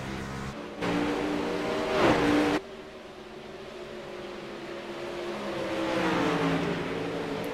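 Dirt track race car engine at USA Speedway in a racing sim, a loud close drone that rises in pitch and then drops off sharply, followed by a lower engine note that swells again as cars lap, with no talk.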